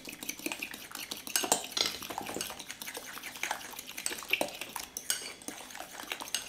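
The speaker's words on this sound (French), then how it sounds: "Le coup de fourchette bien énergique." A fork beats a mustard mixture vigorously in a bowl, giving rapid, continuous clinking and scraping strokes up close with an uneven rhythm and no talking.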